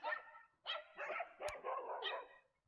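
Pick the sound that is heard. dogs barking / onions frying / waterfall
dogs barking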